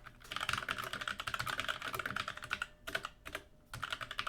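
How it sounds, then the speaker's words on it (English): Typing on a keyboard connected to a Librem 5 phone: a fast, continuous clatter of close key presses, with one brief pause before the typing resumes. "this is a little bit faster typing with the keyboard than it was with the on-screen keyboard"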